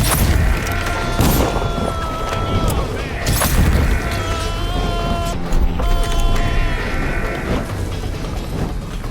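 Gunfire and explosions in the video game Dishonored: loud booming blasts and sharp cracks burst through a dense battle mix with sustained tones and shouting voices, continuous and intense throughout.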